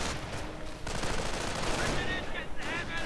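Rapid gunfire and sharp sniper shots crackle in a real-time strategy battle, with an anti-tank half-track firing, dense overlapping bursts continuing steadily for a few seconds without talk.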